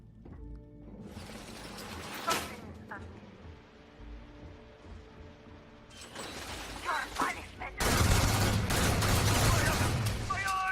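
Gunfire in the sci-fi game Starfield comes as bursts of shots and mechanical clatter, with talking in between and a dense, loud volley toward the end.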